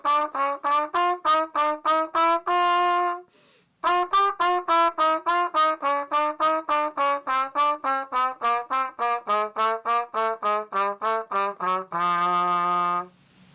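A trumpet plays a Mixolydian exercise with approach notes using single tonguing, a steady run of crisp, separately attacked notes with a brief pause partway and a held final note, played alone and close.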